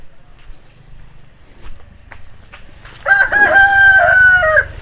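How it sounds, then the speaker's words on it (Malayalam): A neighbour's rooster crows once, loud and clear, after a few seconds of quiet household background with faint knocks. "അപ്പുറത്തെ വീട്ടിലത്തെ കോഴിമൂടി കൂവുണ്ട്"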